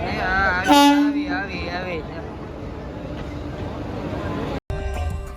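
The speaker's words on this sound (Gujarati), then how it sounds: "જો ટ્રેન આવી ગઈ" A train pulls into a station with a loud horn blast near the start, followed by a continuous rolling rumble of wheels and carriages, busy platform noise underneath.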